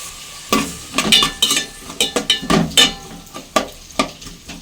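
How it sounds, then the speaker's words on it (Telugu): Onions, tomatoes and green chillies fry in oil in a pan while a spatula stirs them, giving a string of close, sharp clinks and scrapes over a steady low sizzle, with no talking. "ఆయిల్ పోసుకొని ఉల్లిపాయలు టమోటా పచ్చిమిర్చి వేయించుకుందాం"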